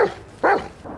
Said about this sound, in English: That is a chonky dog.